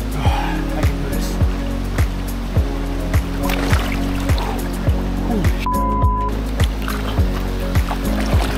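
Cold river current in Taiwan rushing steadily close by, with a regular series of splashy knocks repeating about twice per second over the continuous water noise.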